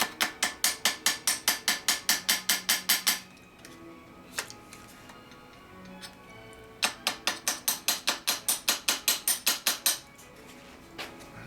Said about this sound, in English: then we can use a punch.